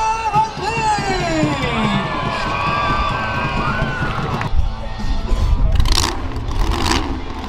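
Crowd cheering and shouting at a monster truck show in Gaithersburg, Maryland, a loud sustained roar of voices with whistles and shrill bursts near the end, over a busy arena background.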